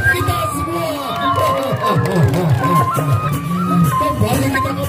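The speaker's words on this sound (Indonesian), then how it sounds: "Tepuk tangan buat kita semua." A crowd shouts and cheers at a presean stick-fighting match in Teluk Awang, a dense, steady roar of voices with tonal yells rising and falling throughout, close and loud.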